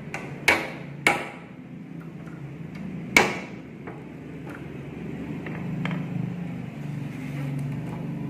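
Three sharp hammer strikes drive nails into a wooden door panel under construction, two quick blows close together, then a single louder hit, with low background rumble and faint knocks afterward.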